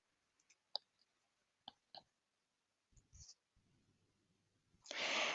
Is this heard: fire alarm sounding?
no